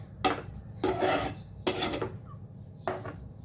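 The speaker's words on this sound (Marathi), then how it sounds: "तर अशा प्रकारे आपण हे मीठ टाकायचं आहे आणि छान मिक्स करायचे आहे." Salt is mixed into a cooking vegetable dish in a pan with four distinct scraping strokes of a utensil against the pan, close and clear, separated by quiet pauses.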